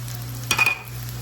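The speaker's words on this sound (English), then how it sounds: "we're going to mix this around together" A spoon briefly scrapes through a pan of ingredients seasoned with oregano for a stuffed shells filling, one short rustling burst of stirring that stands out against an otherwise quiet background.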